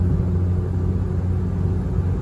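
Ninth-generation Honda Civic Si with a 1320 header or downpipe and a 3-inch catback exhaust gives a steady low exhaust rumble, continuous and fairly loud, with no talking.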